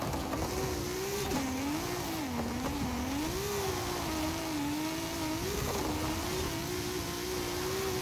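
In Forza Horizon 5, a car engine drones steadily while driving over rough rally terrain, its pitch wavering up and down as the car is thrown about, continuous and close throughout.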